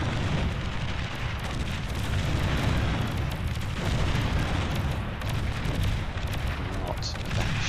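Banisher units firing in the real-time strategy game Beyond All Reason, a dense run of booming explosions and gunfire rumbling across a 2v2 battle with no clear break.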